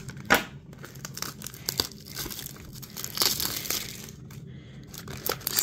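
Plastic wrapping of a blind-bag toy package torn open up close, a series of sharp ripping and crinkling bursts with brief pauses between them, no voices.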